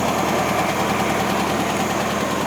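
A 1971 VW bus engine idles close by with a steady rumble and a rough, slightly knocking rhythm that stays even throughout.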